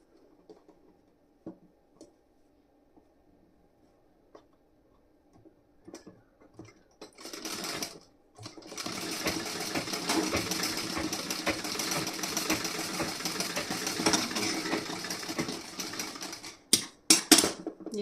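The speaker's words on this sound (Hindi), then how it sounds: "अब इस साइड में लगाऊंगी सिलाई इसी तरीके से।" A sewing machine stitching the front part of a blouse: a few scattered clicks and handling taps at first, then a steady whirring run of stitching for about eight seconds, ending in short stops and starts, close and with no speech.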